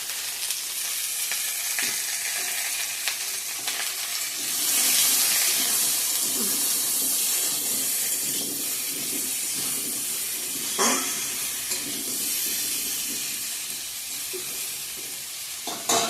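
Spices with salt and turmeric fry in a pan for an egg curry, giving a loud, continuous sizzle with bursts of hiss and occasional stirring scrapes, close up and steady throughout.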